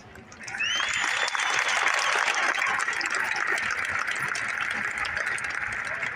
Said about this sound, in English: Let's applaud their outstanding accomplishments